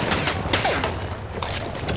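Battlefield 1 multiplayer gunfire, including a player's hip-fired weapon, forms a loud, continuous barrage of overlapping shots and battle noise across the whole stretch.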